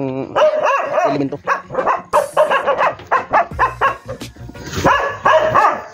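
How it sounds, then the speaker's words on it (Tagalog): A small dog barks repeatedly and loudly up close, rapid yappy barks in bursts, with a brief spoken word among them. "napakingay ng aking aso."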